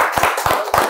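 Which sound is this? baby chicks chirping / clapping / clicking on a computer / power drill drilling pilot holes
clapping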